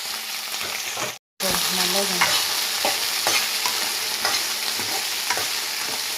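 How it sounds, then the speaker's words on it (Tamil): Okra frying in oil and being stirred in a pan for a tamarind curry, a loud, steady sizzle with scraping stir strokes throughout and one brief break near the start. "நல்லா ஃப்ரை பண்ணணும்"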